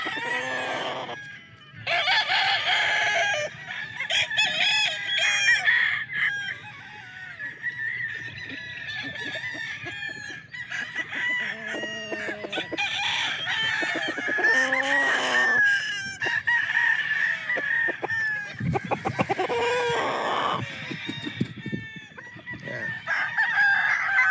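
Several Early Bird bloodline gamefowl roosters crow repeatedly, close and loud, their long calls overlapping with clucking from other birds throughout.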